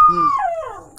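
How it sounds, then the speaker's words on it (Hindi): Dog indoors, heard as a single close, loud drawn-out howl or whine that slides downward in pitch and fades, with no talk. "और अंदर में एक कुत्ता भौंक रहा है।"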